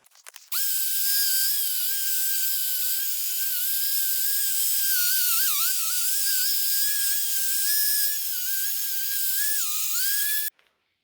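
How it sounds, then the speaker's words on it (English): An angle grinder fitted with a wire cup brush strips rust from Rockwell/Beaver table saw parts: a steady, piercing high whine that runs close and loud for about ten seconds, wavering slightly under load, then cuts off abruptly. "I'm gonna actually use an angle grinder with a wire cup to actually take off as much of the rust I can."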